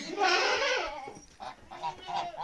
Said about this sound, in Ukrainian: А це мої гусі.